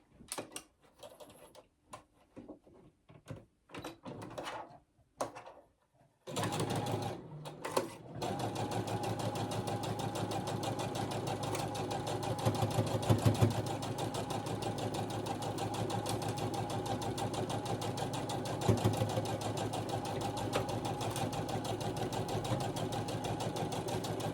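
After a few scattered clicks and handling noises, a sewing machine runs continuously along a long quilt seam, a steady mechanical whir with occasional heavier thumps as it crosses other seams.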